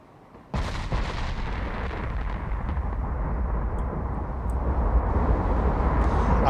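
Warship guns in the naval game Ultimate Admiral Dreadnoughts fire in one sudden, heavy blast, followed by a loud, sustained booming roar that rolls on and slowly builds.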